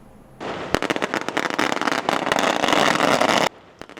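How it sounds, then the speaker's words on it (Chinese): Firecrackers burst in a rapid, crackling string at a fishing harbour as a temple's boat procession arrives, loud and dense for about three seconds before stopping abruptly, with a few scattered pops after. "港內鞭炮聲迎接"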